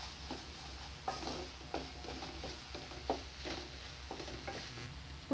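Ginger garlic paste frying in a pan for pav bhaji gives a steady low sizzle, broken by repeated scraping stirs and a few sharper clinks of the spoon against the pan.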